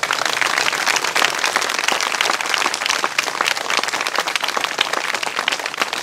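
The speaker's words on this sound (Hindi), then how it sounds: "जो अपने तरीके से जी रहे हैं उनको छोड़ के बाकी लोग ताली बजा सकते हैं" A crowd claps steadily in a dense, continuous patter for several seconds, loud and close, with no voices over it.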